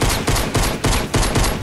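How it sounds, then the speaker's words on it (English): Pistol fire in the Fortnite video game, a rapid run of loud, close gunshots repeating in steady bursts with no pauses between them. "Why are you shooting with your pistol?"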